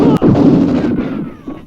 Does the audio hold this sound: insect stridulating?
no